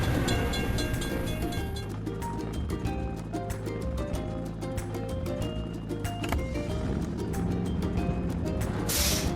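A train rolls past a closed level-crossing gate in a children's vehicle video game, a steady, loud rumble with rhythmic clicking that fills the whole stretch alongside synthetic game tones.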